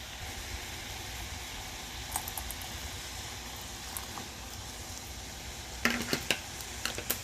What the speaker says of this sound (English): Just to make sure that everything is kind of boiling, that doesn't completely evaporate.